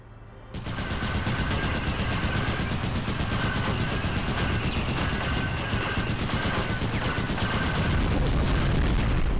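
Sustained, dense machine gun fire rattles without pause in a combat video game, loud and close, with booming impacts mixed into the continuous burst.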